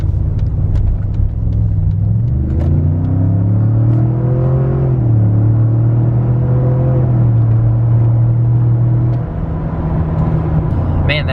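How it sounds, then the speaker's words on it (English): A 2021 Ford Bronco with a 10-speed transmission accelerates steadily, its engine note climbing in a smooth rising drone and dropping briefly at the gear changes, close and loud and with no talk. "Let me show you guys an acceleration here with the 10-speed."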